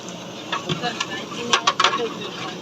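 A utensil stirs food in a pan containing mint and coriander, with soft scraping strokes and a few sharper clustered scrapes over a faint sizzle.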